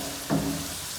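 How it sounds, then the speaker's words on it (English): Locally grown onion hits a hot pan with a brief sizzling burst, then settles into a steady, close frying hiss with no voices. "Locally produced onion in the pan. And saute it for 3 minutes more or less."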